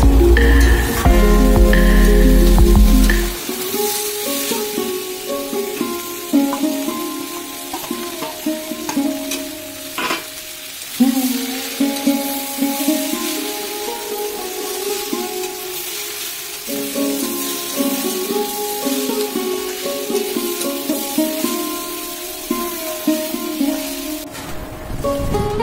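Okra, potato and shrimp sizzle and fry in a pan with a continuous crackling hiss, occasional stirring scrapes, and a louder burst at the start as the ingredients go in.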